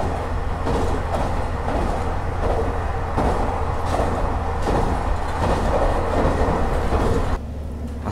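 A limited express train runs on single track through mountain forest between Sapporo and Wakkanai, heard from inside as a loud, steady rumble with rhythmic rail joint clacks, the tone dropping near the end.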